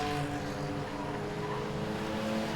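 A race car in an enduro race at Langley Speedway passes by, its engine a steady, droning roar heard from a moderate distance for a couple of seconds.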